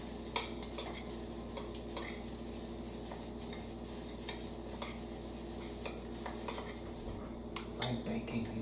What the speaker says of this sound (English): I'm gonna mix all of the dry ingredients.